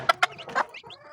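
Mother hen clucking near her chicks in a scratch pen: a few short, close clucks followed by soft murmuring and faint high peeps, quiet overall.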